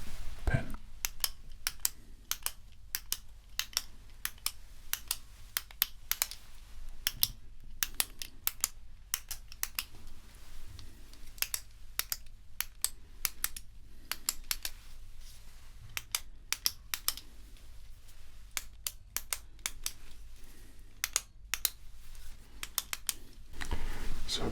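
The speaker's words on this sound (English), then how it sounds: "with a pen like this ballpoint pen, a very cheap one, is that the mechanism inside, you can hear a small sprinkle sound" A cheap ballpoint pen's inner mechanism clicks in quick, close, crisp ticks scattered irregularly across a long stretch, with soft talking now and then in the background.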